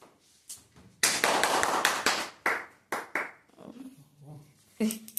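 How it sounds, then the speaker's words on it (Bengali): Scattered clapping from a small group at a child's birthday celebration after the birthday song: a few loud bursts of hand claps and taps broken by pauses, with some brief voices near the end. "হাততালি দিয়ে দাও"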